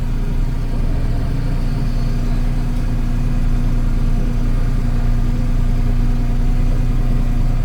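A Kubota L3560 compact tractor with a tree shear attachment runs steadily, its diesel engine a loud, close, continuous low rumble that holds constant throughout.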